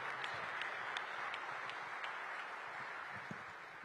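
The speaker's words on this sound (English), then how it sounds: "give a big, jubilant round of applause for NBA Commissioner Adam Silver." A crowd at a public event marking the start of work on a new Capital arena applauds the NBA Commissioner, with steady clapping that sounds mid-distance and moderately loud.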